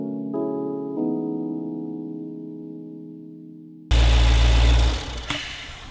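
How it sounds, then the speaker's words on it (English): Jeep Grand Cherokee SRT 392 engine idling with a steady mid-range drone that fades slightly, then a sudden loud, broadband releasing whoosh near the end that dies away after about a second. "like the intake manifold area, and it makes like this like releasing sound"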